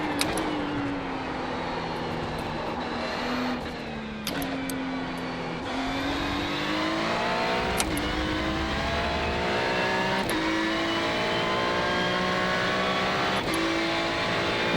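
Ferrari GT3 race car engine in the iRacing sim at Aragon, screaming through repeated upshifts and rising revs, each gear change marked by a sharp drop, loud and continuous without talk.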